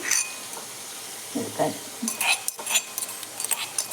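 Crushed green chillies go into a cooking pan for a chana dal palya, with the clink and scrape of a spoon against metal and a light sizzle, fairly close and moderately loud.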